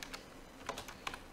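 Quiet typing on a computer keyboard, a brief cluster of soft key clicks with uneven rhythm, close but faint against a low background hiss.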